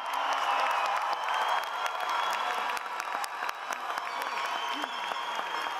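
At a UCLA political science commencement, the crowd applauds its graduates with sustained clapping, scattered cheers and whoops rising over a large outdoor gathering, with some voices mixed in.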